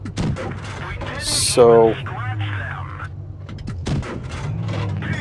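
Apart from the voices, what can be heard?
tank gun firing in a video game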